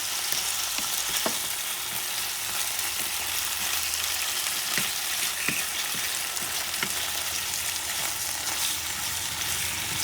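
Chicken breast stew stirred in a hot pan: a loud, continuous frying hiss with a few soft knocks and scrapes of a spoon scattered through it, no talking.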